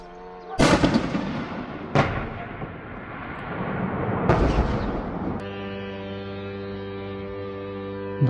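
Several loud explosions boom and crack at a distance, with long rumbling echoes trailing after each, then a steady droning hum takes over.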